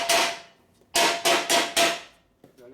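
A heavy hammer striking metal in a workshop during a motorcycle rebuild: one ringing blow, a pause, then four quick, loud strikes in a row and a faint tap at the end, with no talking.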